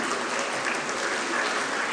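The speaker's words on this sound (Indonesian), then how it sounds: "Tepuk tangan untuk ekonomi Islam." Dense, steady applause from a graduation ceremony audience honouring Islamic economics alumni, a broad even wash of many hands clapping continuously for two seconds with no talk.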